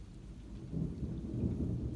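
Thunder rolls through a Massachusetts thunderstorm with rain, a low rumble that swells partway through and stays heavy to the end, fairly faint and distant over the steady hiss of rain.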